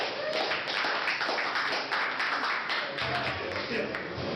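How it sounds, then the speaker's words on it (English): Sustained audience clapping at an evening community event, a steady dense patter of many hands at moderate distance lasting throughout, with faint low murmur underneath. "Give yourself a round of applause for just being here."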